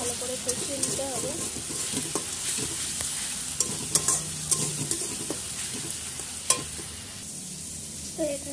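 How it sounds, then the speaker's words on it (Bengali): Ginger garlic paste is stir-fried in a pan with a constant close sizzle. Repeated scraping and clinks of a spatula against the metal break through the sizzle, and no voices are heard. "আদা রসুনটা একটু কাঁচা গন্ধ ছাড়িয়ে এটাকে ভালো করে কষিয়ে নিতে হবে"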